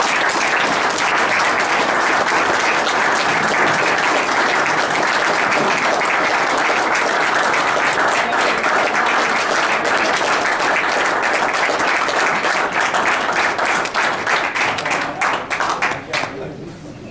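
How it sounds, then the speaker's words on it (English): People at a Mason City City Council meeting give a long round of applause honoring a council member's years of service. The full, steady clapping fills the room and tapers off at the end. "Give a round of applause."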